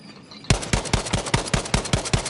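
Rapid automatic gunfire from Battlefield V, a fast regular burst of about ten close, loud shots that starts abruptly after a brief quiet moment, with no talking.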